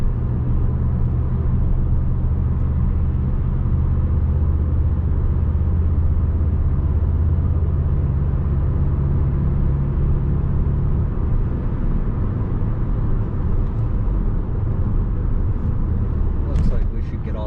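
Interior drone of a 2018 Volkswagen Golf GTI with manual gearbox cruising on a Baltimore County highway at rush hour, a loud constant low rumble of engine and tyres that eases slightly partway through, with occasional faint higher ticks near the end.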